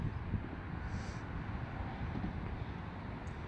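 Wind blows steadily across an outdoor microphone on a hazy, gusty day, a low continuous rumble and rush with no pauses and no voices.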